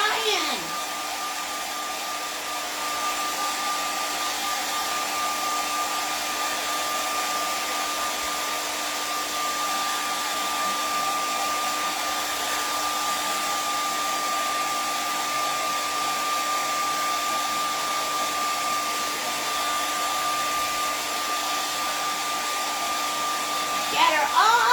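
A hair dryer dries a painting in a steady, loud, unbroken whir that holds for the whole stretch with a constant tone. It cuts off briefly at the very end.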